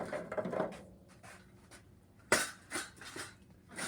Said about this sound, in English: I'm just gonna dump them right here on this side of the grill.